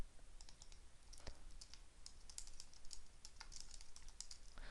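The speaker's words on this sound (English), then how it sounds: "I am double-clicking on each of them to name them" Quiet typing on a computer keyboard with scattered mouse clicks, a light irregular patter of keystrokes and one sharper click, close but soft, with no talking.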